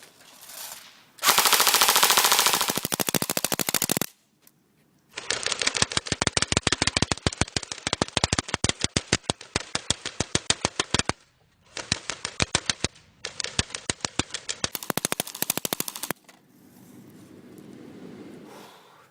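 Rapid bursts of automatic fire from an AK-74U rifle shooting at an NES game cartridge outdoors, loud and close, with a sustained blast, then long rattling strings of shots broken by brief pauses, ending in quieter rustling.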